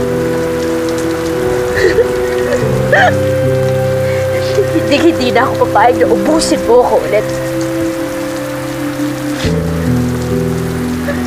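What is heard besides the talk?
rain falling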